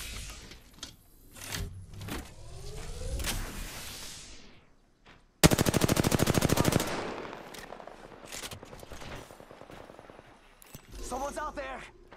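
Gunfire in the Apex Legends video game, with bursts of automatic fire and a long, loud rapid machine-gun stream in the middle, followed by scattered shots and game effects, close and intense.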